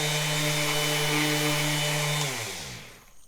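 A power sander runs on a wooden cutting board with 220-grit paper, a steady buzzing drone, then winds down and spins to a stop near the end.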